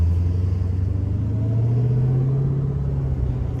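A Dodge Hellcat's engine rumbles steadily from inside the car while it is driven toward a freeway, a deep, even drone with no talking.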